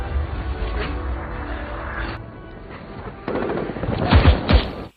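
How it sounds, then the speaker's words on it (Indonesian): Steady crackling gunfire from German soldiers in a war battle, with dense rapid bursts and a few heavier impacts toward the end, loud throughout with no voices. "Terlihat dirinya merangkak menggusur Nikolai untuk menghindari tembakan tentara Jerman."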